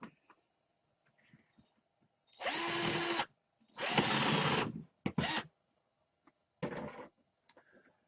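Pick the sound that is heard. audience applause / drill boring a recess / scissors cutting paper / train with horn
drill boring a recess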